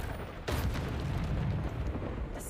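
A Bombarda blasting spell going off in a video game, a single sudden booming explosion that rumbles and fades over a couple of seconds, loud and close.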